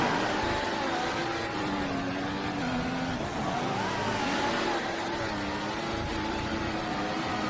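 Formula 1 race car engine at the 2014 Singapore race in a video game, a steady high droning whine that rises and falls in pitch, loud and continuous throughout.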